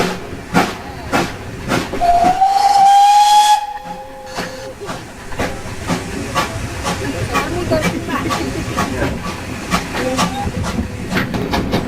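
West Somerset Railway steam train departing Watchet station: a loud, long steam whistle blast over hissing steam, then rhythmic chuffing exhaust beats as the locomotive pulls away, heard up close.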